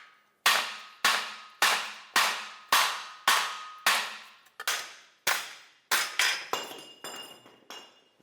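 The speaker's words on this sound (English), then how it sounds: "Now, hammer this out." Repeated hammer blows driving out the rear wheel bearing hub on a 2007–2017 Jeep Compass, about a dozen sharp metallic strikes at a steady, slightly quickening rhythm, loud and close with ringing decay.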